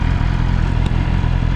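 A BMW S1000RR motorcycle engine idles steadily up close, a low, even rumble with a faint mechanical clatter running throughout.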